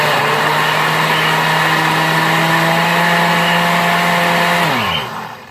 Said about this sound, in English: I don't have the greatest of all blenders, so I have to fuss with it a little bit more